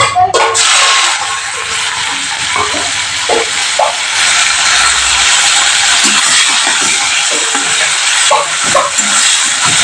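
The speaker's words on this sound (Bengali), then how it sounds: "প্রথমে চিংড়ি মাছটা ভেজে নেব" Prawns fry in a pan in a loud, continuous, close crackling sizzle, with occasional stirring scrapes and knocks breaking through.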